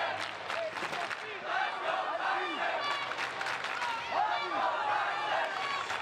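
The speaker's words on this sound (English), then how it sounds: "Wisconsin crowd chanting, "Let's go Tyson." You got the "Let's go Mako."" A crowd at a junior men's freestyle wrestling final in Fargo chants and cheers for the wrestlers Tyson and Mako, a rolling mass of voices heard under close commentary.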